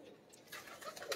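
Pigeon cooing in a short, faint burst, soft repeated notes heard at a distance.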